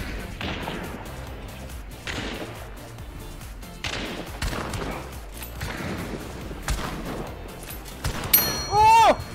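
Repeated bursts of gunfire from a first-person shooter video game ring out at regular intervals, loud and sharp with echoing tails, mixed with game effects, ending in a brief rising electronic tone.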